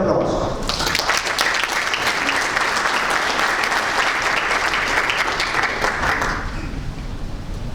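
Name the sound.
audience applause welcoming a speaker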